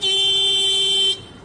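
A car horn meme sound effect blares loudly in one sustained, steady honk for about a second, then cuts off abruptly into quiet.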